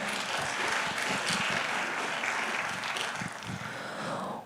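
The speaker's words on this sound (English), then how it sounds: "A thunderous round of applause from all of us today." An audience claps through the opening session of the CII Mystic South Global Linkages Summit 2025, a dense, steady wash of applause that fades slightly at the end, with no voices over it.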